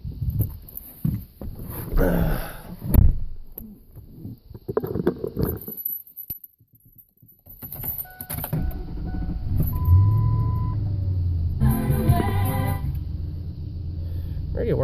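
A 1998 Ford F-150 engine cranks and catches, then settles into a steady idle rumble that carries on to the end, loud and close, with people talking over parts of it.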